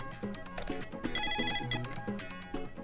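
A telephone rings with a repeating electronic ringtone melody, fairly quiet and steady throughout, with no clear speech.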